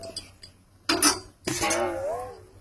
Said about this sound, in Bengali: তো এবার আমি ঢাকা দিয়ে দেব যাতে তাড়াতাড়ি শাকটা সিদ্ধ হয়ে যাবে